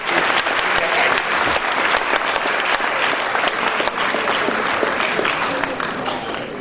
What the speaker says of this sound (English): So let's give them all a big round of applause.